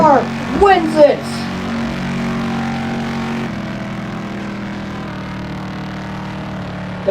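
Race cars at Darlington in an NLXICS race replay, engines droning steadily, with a brief burst of rising and falling revs near the start and a voice talking over it.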